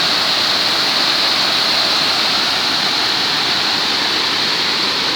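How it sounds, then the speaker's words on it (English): Water rushing steadily through Hanford Lock on the River Gipping, a loud, continuous close-up roar like a small weir with no pauses. "I can hear the water running"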